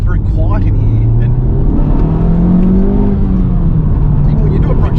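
A Honda Civic FK8 Type-R engine revs while driving, its loud tone climbing and falling in a smooth sweep heard from inside the cabin, with a voice talking over it.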